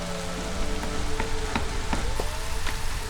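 Steady rain patters across a colony of shelled human settlers in the city-building game Against the Storm, a continuous soft hiss with a few faint clicks and tones from the game layered on top, no voices.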